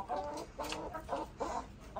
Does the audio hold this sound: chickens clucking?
yes